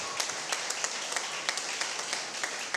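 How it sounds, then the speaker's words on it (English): A church congregation applauding at a Sunday service, with a steady patter of many hands clapping throughout and sharper individual claps standing out. "Give them a round of applause."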